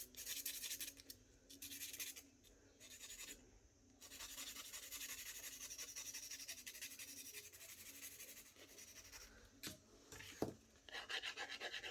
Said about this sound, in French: Je lime juste un petit peu.